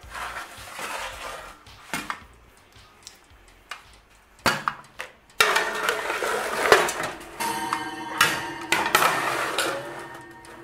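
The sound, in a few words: Sicilian eggplants being put into the oven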